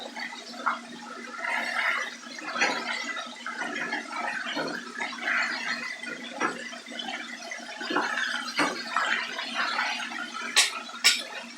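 Chicken frying in hot oil over medium heat, giving a steady bubbling, crackling sizzle with scattered sharp pops, loud and continuous throughout with no voices.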